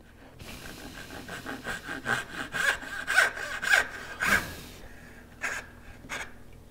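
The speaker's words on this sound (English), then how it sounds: "Last cut, the saw in position" A hand saw cuts the last stroke of a wooden dovetail in a workshop, giving a steady run of rasping back-and-forth strokes close by that pause briefly before two final strokes.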